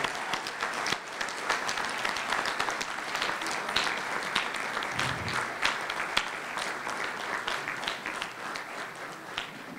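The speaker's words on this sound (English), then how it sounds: "I would like you to give a resounding round of applause for our chairperson, our leader, Amaya Attil" Audience applause at a National Youth Forum event fills the whole stretch, steady dense clapping from a large crowd with no break and no talking over it.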